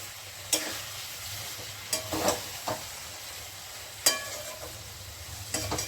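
Quiet, steady sizzle of spice paste frying in oil for drumstick curry, punctuated by several sharp scraping stirs of a spoon against the pan.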